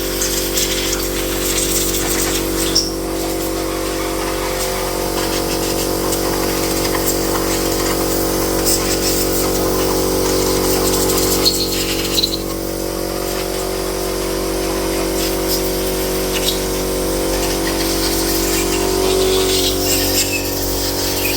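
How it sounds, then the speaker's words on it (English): Compressed air roars steadily through the sump of a BMW E30 325i to blow it dry, a loud continuous rushing hiss that holds nearly unbroken for about twenty seconds, with a few brief surges. "now we're gonna blow compressed air through the whole thing and make sure it's dry"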